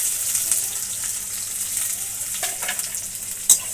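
Crushed garlic and chopped onion fry in a pan with a steady broad sizzle, broken by a few soft stirring scrapes and a sharper clink near the end; no voices.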